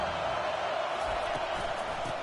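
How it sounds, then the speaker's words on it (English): A stadium crowd at a football game keeps up a steady, dense roar throughout, a continuous wash of many voices with no clear breaks or standout shouts. "Listen to the crowd energy here in the early going."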